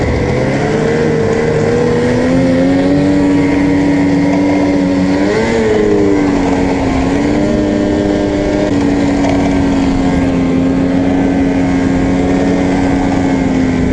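A snowmobile sled runs under way with a loud, steady engine drone close by. The pitch rises and falls a little as the throttle shifts, and no one talks.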